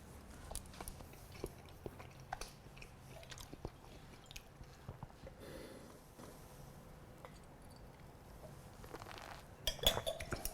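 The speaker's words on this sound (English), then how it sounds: "We're gonna give it a little taste, get some scallops here." Scallop sashimi being eaten close to the mic: soft, intermittent chewing and biting with occasional light clinks of dishes or cutlery, a brief louder clatter near the end, no talking.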